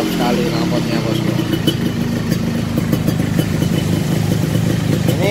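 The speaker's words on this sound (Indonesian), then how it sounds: "kalau stasioner gini garing, suaranya enak" A Yamaha RX-King motorcycle with a standard racing exhaust idles steadily nearby with a crisp, rattly exhaust putter, continuous and fairly loud throughout.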